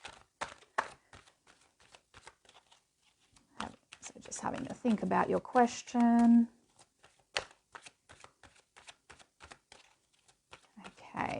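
Rapid riffling and flicking of oracle cards in quick bursts, with a person speaking softly between and over the shuffling, close to the microphone.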